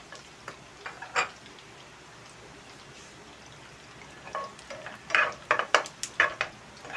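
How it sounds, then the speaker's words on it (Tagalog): Butter melts and sizzles in a pan over low heat before fried rice is made, with a soft steady fry and a run of sharp clicks and taps toward the end. "Tunawin natin butter."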